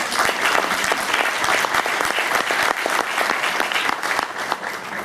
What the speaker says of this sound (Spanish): de verdad que pido otro aplauso para todos ustedes porque se lo merecen